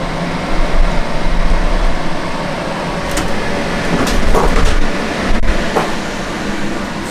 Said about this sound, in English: Sorry about the noise of the fan